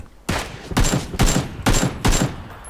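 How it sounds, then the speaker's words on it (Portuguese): Rapid volleys of gunfire in the video game PUBG, four or five loud, sharp bursts spaced evenly with short gaps between them, close and dominant. "Ele tomou uns tiros."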